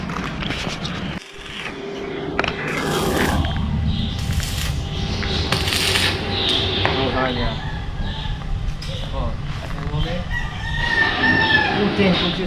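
A rooster crows loudly and close several times among clucking chickens, with people talking over the farmyard noise throughout.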